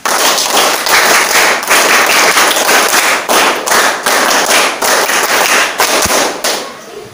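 A debate audience gives a rhythmic "let's go" clap: loud, close, patterned bursts of group clapping with brief pauses between phrases, continuing steadily for several seconds with no talk over it.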